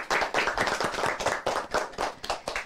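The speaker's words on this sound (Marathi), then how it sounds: "एकदा जोरदार टाळ्या" Audience applause at a Marathi TV family celebration: many hands clap fast and loud in a dense, continuous burst with a brisk rhythm, no talking over it.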